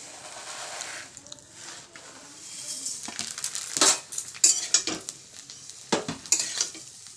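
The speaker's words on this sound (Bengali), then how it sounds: "অল্প আজে ভেজে নেব সুন্দর করে যদিও ভাজা থাকে তবুও বাড়িতে একটু ঘি দিয়ে ভেজে নিতে হয়" Semai vermicelli frying in a little ghee in a wok, with a steady sizzle under repeated scraping strokes and clatters from stirring. The strokes come irregularly and grow louder toward the end.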